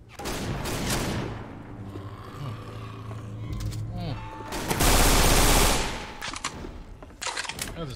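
Rapid bursts of gunfire in Left 4 Dead 2 crackle loudly and repeatedly, with a dense sustained volley midway, mixed with game effects and occasional talking.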